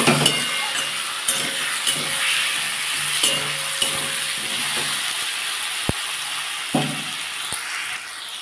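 Potato, onion and softened tomato fry in a pan for a tilapia and broccoli curry, with a steady close sizzle and occasional metallic clinks and scrapes from stirring, no voices.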